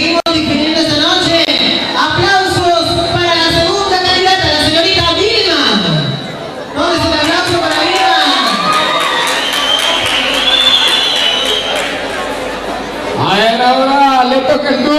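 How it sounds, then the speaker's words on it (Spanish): A crowd at a Latin community pageant, the Ecos Latinos 2012 young women's contest, cheers, shouts and applauds loudly for the first candidate, with high children's voices in the mix and two brief lulls before the noise surges again. "Aplauso para la primera candidata."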